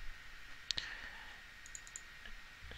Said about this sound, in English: or you can right click and paste